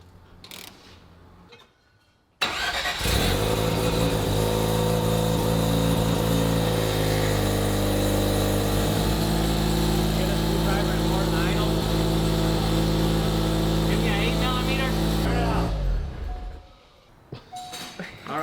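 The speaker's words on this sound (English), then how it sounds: "That's the first time you hear a rotary engine going through a titanium Corvette Z06 exhaust" A rotary engine swapped into a Corvette roars loudly through a titanium Corvette Z06 exhaust at LS Fest, holding a sustained, buzzing, harmonic-rich drone for about thirteen seconds before dropping back to a quieter idle.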